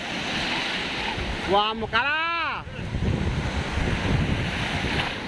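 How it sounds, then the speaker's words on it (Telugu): Sea waves surge and wash against a shore in steady broadband rumble with wind buffeting the microphone, while a voice briefly exclaims in the middle. "ఫ్రెండ్స్ ఇది చూడండి సముద్రం ఎట్టే కుడతారు"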